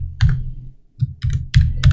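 Code is typed on a computer keyboard in several quick, close clusters of keystrokes separated by short pauses, with no other sound.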